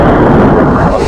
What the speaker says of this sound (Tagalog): Grabe yung kulog dito, guys.